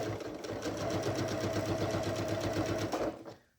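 Sewing machine stitching through thick layers of a zipper bag, a steady loud mechanical whirr with rapid rhythmic needle thumps running continuously for about three seconds before stopping.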